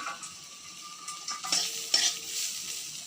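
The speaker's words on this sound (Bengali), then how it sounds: "তার সঙ্গে পেঁয়াজগুলো আশেপাশে আছে সেগুলোকে নেড়ে নিচ্ছি" Onions sizzle in a frying pan while being stirred for a chickpea (chola) fry, a steady close hiss with scraping spoon strokes and light clinks against the pan, no voices.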